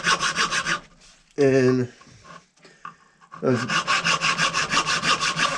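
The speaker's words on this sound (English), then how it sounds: "I'm going to take hacksaw or bone saw" A hacksaw or bone saw cuts through cow horn in quick rhythmic rasping strokes, loud and close, pausing midway for a short vocal sound and a quiet spell before the steady sawing resumes.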